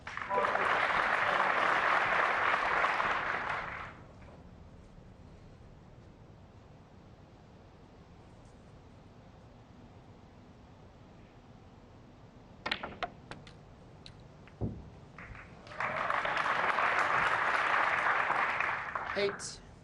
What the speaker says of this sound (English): The knowledgeable crowd here loving that shot